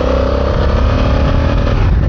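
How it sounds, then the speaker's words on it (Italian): A Honda Africa Twin motorcycle's parallel-twin engine revs loudly and steadily up close, a dense throbbing roar that fills the whole short stretch. "Motore prima di tutto."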